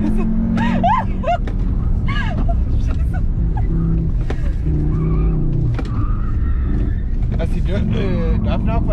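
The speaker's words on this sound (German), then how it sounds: "Jetzt mal mein Launch Control." A Cupra Formentor launches and accelerates hard under launch control, engine roar rising and falling through gear changes with loud rumble, while people inside talk and exclaim excitedly over it.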